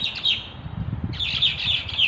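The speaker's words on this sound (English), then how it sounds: "What are the birds doing?" Small birds chirp and tweet outdoors in two bright bursts of quick, high calls separated by a brief lull, fairly close and clear over a low background rumble.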